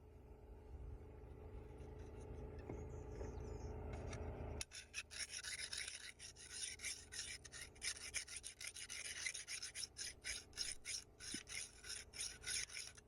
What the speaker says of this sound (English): After I've removed the burrs, run a few times with both files